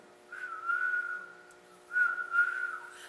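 A hollow whistle imitating an owl's hoot sounds twice, each a sustained, steady tone with a slight wavering swell, separated by a short pause, clear and alone.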